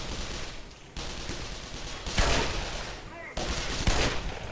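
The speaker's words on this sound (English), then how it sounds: "These machine guns, they ain't got no accuracy" Machine gun fire in the Black Mesa video game: loud, dense bursts of rapid shots in several stretches, with short breaks between volleys.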